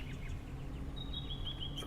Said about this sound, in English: Of course, the birds are an import from Australia, the magpie.